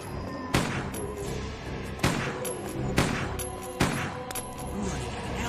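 Gunfire in a 2D animation, four sharp loud shots spaced about a second apart, each with a short ringing decay, over a steady noisy background and with no talking.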